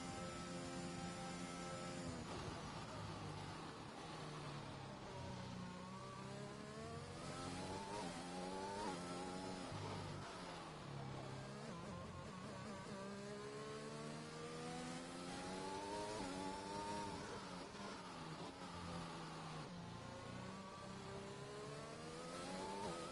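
Onboard engine note of a Mercedes race car in a racing video game, revving continuously with rising and falling pitch through gear changes, loud and close, no talking.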